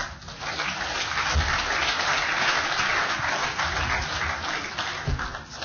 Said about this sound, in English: A round of applause for Rich, please.